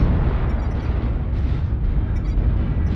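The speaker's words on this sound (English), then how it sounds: "Incoming missile." A missile explosion in an air-combat video game, a loud sustained rumbling blast close by with dense low-end roar and no voices over it.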